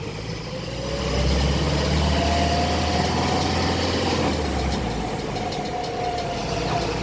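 A Hino Dutro 4x4 double-cabin truck engine runs steadily, a close, continuous low diesel drone that swells slightly after the first second and then holds.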